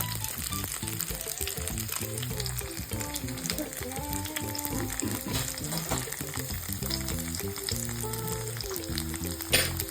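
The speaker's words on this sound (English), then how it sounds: "We're gonna fry some plantains as well with the eggs." Plantains and eggs frying in a pan for a traditional Jamaican breakfast, giving a continuous close sizzle with occasional stirring and scraping, no talk.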